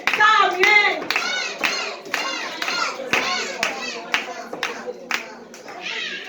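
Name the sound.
guests clapping for Samuel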